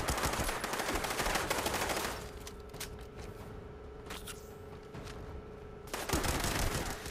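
A gun in Fallout 76 that fires 12 bullets at a time lets off dense bursts of loud, rapid gunfire, easing to scattered sharp shots in the middle before a heavy burst returns.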